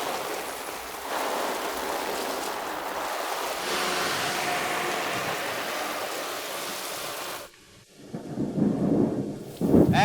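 Steady rain hisses with deep thunder rumbling beneath it in a broad, constant wash, then a sudden drop near the end before a louder gusting burst returns; no one speaks.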